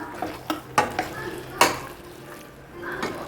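A spoon scrapes and knocks around a pot of chicken curry in a few uneven strokes, with a soft sizzle underneath and no talking.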